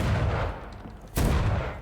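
Gunfire in the vampire action game Vampyr, a dense burst of shots up close that thins out briefly before a second loud volley erupts near the end.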